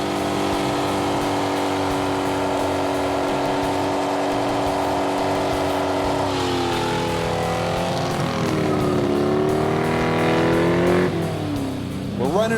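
A '61 Chevy Impala on BFGoodrich tires does a line-lock burnout: a loud, sustained engine roar rises and falls through repeated revs over a steady hiss, with some talking mixed in.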